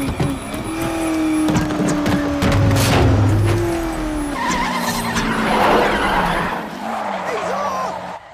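A race car skids with brake fade in a film scene during a test drive, its tires squealing loudly across several seconds over engine roar, with a voice speaking over it.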